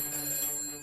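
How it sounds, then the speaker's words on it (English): A telephone rings in a short electronic trill, a bright steady tone heard briefly and clearly with no talk over it. "The phone went"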